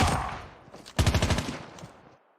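Call of Duty gunfire rattles in a rapid automatic burst, then a second, louder string of shots snapping quickly in sequence before tailing off; no voices over it.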